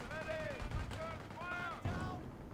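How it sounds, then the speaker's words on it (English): Mortar and gun fire in the World War II strategy game Company of Heroes, Market Garden campaign: bursts of distant booming and rattling shots mixed with in-game voices calling out over the battle. "they're mortaring that position"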